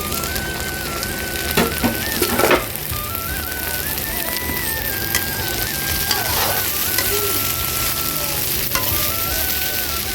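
Okra, potato and soybean frying in a pan, a steady loud sizzle throughout with occasional stirring scrapes and clinks, no talking.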